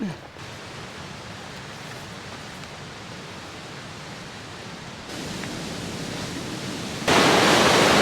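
Rushing mountain stream beside a hiking trail in the Maroon Bells-Snowmass Wilderness, Colorado, a dense, steady roar of water that grows louder in steps as it comes nearer.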